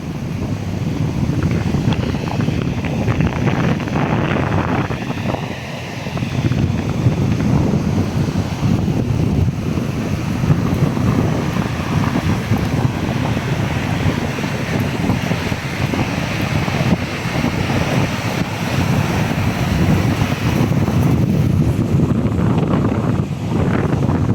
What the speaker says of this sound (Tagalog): Grabe ng alon.